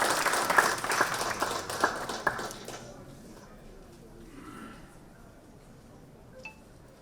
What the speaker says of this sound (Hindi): जोरदार तालियों से आप उनका स्वागत करते हैं।